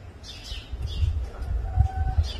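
A sparrow chick gives thin, high chirps as a white guira cuckoo seizes it on a rooftop, the calls faint and scattered over a low rumbling background.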